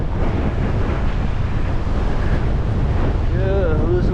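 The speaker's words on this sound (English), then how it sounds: "It's windy" Strong wind roars and buffets the microphone continuously on the coast at Flower's Cove, Newfoundland, with surf-like rumble and a voice briefly heard near the end.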